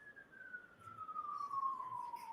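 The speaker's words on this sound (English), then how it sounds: "let me just let the siren go by" A siren passes outside a Massachusetts courtroom during a trial session, its steady wailing tone sliding slowly downward in pitch, faint and distant under low room noise.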